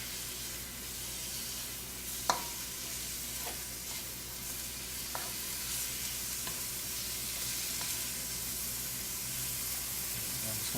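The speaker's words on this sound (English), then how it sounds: "You can always turn it back down if it starts sizzling too much." Onion and vegetables sizzle steadily in a hot pan over high gas, a constant close frying hiss with a few sharp pops and stirring clicks.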